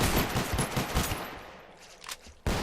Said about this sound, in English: I quickly fired my shotgun multiple times trying to blast the assailant